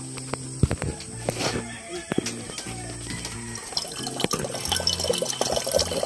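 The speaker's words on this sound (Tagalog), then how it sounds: "mag-init muna tayo ng tubig. Pakulo muna tayo para pagkape." Water runs and splashes into a pot or kettle for heating to make coffee on a cold morning at home, a steady close trickle with scattered clinks and clatter of kitchenware throughout.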